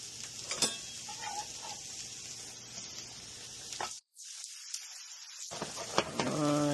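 Peppers and onions cooking in a pot for stewed salmon with okra, giving a steady soft sizzle with a few stirring clinks, briefly cutting out near the middle before resuming.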